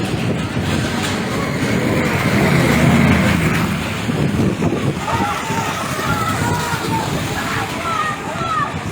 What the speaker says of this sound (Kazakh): Вот едет автобус.